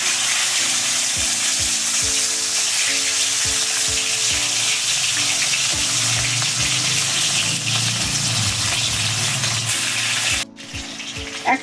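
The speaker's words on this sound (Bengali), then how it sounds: "তেল গরম হয়ে গেছে, এখন আমি ভেটকি মাছের পিসগুলো ভেজে নেব।" Pieces of bhetki fish, rubbed with salt and turmeric, frying in hot oil, giving a steady loud sizzle throughout with repeated low knocks and clatters of a spatula or pan, and a brief break near the end.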